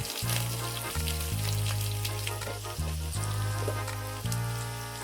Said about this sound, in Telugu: అల్లం వెల్లి పేస్ట్ వేసుకొని పచ్చివాసన పోయేటట్టుగా వేయించుకోవాలండి